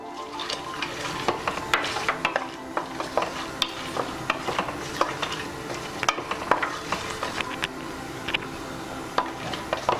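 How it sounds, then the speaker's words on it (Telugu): Cashews frying and being stirred in a pan with whole spices for coconut milk pulao, giving a steady close sizzle broken by frequent sharp scrapes and clinks of the spoon against the pan, with no talking. "ఇప్పుడు కొద్దిగా జీడిపప్పు కూడా వేసుకుందాం."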